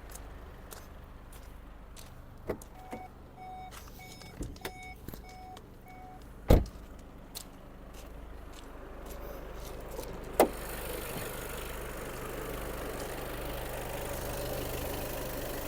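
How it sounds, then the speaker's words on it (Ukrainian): A 2019 Volkswagen Passat B8 Highline engine idles with a low, even hum, broken by a few sharp clicks and knocks, then a broader hiss rises near the end. "Моторчик працює гарно, без зауважень."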